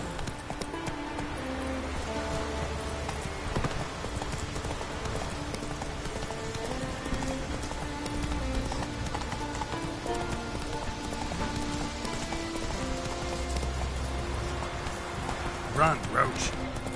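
The horse Roach gallops through rain in The Witcher 3: Wild Hunt, its hooves beating a fast, steady clip-clop over the patter of rainfall with a game soundtrack underneath, while a voice speaks briefly.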